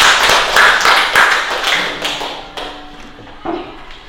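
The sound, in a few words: applause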